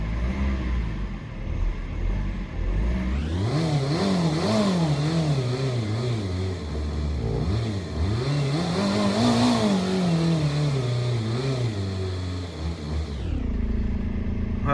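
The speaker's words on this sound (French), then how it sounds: "On peut commencer à mettre un peu des coups d'accélérateur pour faire monter la pression." BMW 320d E46 with the M47 diesel engine, revved after an oil change: a steady idle climbs into several rising and falling throttle blips, loud and close, then settles back to idle.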